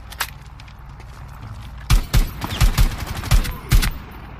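Gunfire in the video game Rainbow Six Siege, a few quick bursts of loud, close shots over steady game background noise, with a faint earlier pop.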